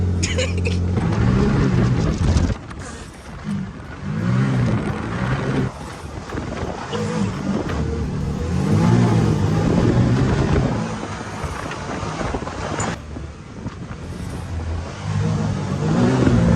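A brand-new Ford Maverick R pickup truck is put in drive and driven, with a steady loud engine and road rumble, heavy wind buffeting on the microphone and occasional voices.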